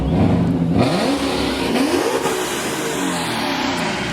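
A car engine revs hard and steadily at a cars-and-coffee meet at Lake Nona, loud and close, holding a continuous roar for several seconds with no one talking.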